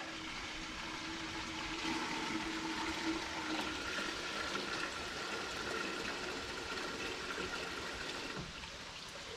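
Steady running water from an off-grid shower fed with rainwater, hissing continuously, moderately close, with no voices.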